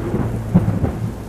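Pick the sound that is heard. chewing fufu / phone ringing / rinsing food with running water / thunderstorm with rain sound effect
thunderstorm with rain sound effect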